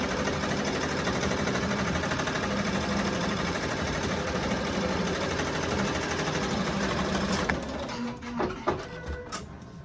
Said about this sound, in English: the machine is stitching with tack down stitch